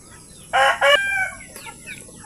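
A rooster crows at a small poultry farm with native chickens, two loud harmonic bursts in quick succession followed by fainter clucking calls in the background.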